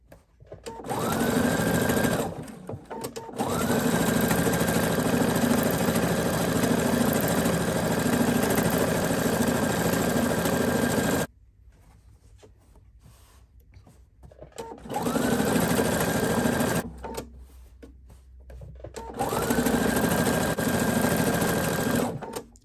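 A sewing machine stitches an appliqué onto a T-shirt dress, running in steady, loud bursts of rapid stitching that pause briefly, stop for several seconds at a point, then start again in two more runs.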